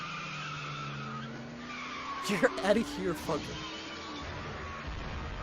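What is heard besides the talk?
car skidding and crashing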